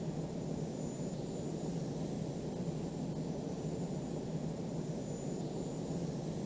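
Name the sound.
F-14D jet flying in video game Falcon 4 Allied Force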